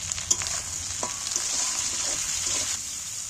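Capsicum and onion frying in a pan with salt added, giving a steady soft sizzle with a few light scrapes of stirring, close and even throughout with no voices.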